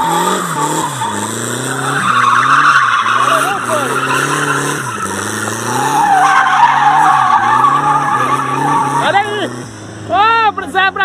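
A drifting car at the Area67 2019 motorsport event sends out loud, sustained tyre squeals and skidding over a revving engine, close and continuous, while people talk nearby.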